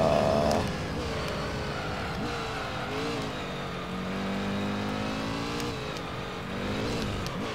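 A race car engine in the Gran Turismo 3 racing game drones steadily as the car accelerates, with shifting pitch sweeps and possible faint tire noise, loud and continuous throughout.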